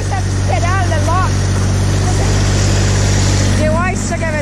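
Four-wheel drive tractor engine running in snow, a loud continuous drone with voices talking over it throughout.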